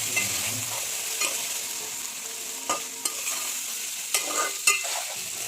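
Fried pieces are stirred into a sizzling curry in a pan, with a steady close frying hiss broken by occasional sharp scrapes of the spoon.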